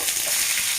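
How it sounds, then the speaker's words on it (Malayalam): Sliced onions frying in hot coconut oil or ghee for a Pesaha appam dish, a dense steady hiss of close sizzling that does not let up over a brief moment, with no talking. "ഇത് വറുത്തെടുക്കാം."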